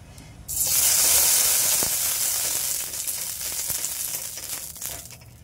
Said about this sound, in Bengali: এই জল আর তেলটাই কড়াই দিয়ে দেবো। কড়া গরম হয়ে গেছে।